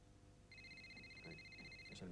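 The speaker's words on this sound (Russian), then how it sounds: "Это мой телефон." A telephone rings indoors at night, a steady electronic two-tone trill starting after a brief pause and continuing to the end, moderately faint with room noise underneath.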